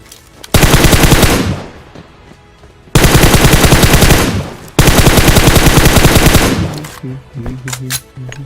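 Video game gunfire: three long bursts of rapid automatic fire, loud and close, separated by short pauses, with a few scattered shots after.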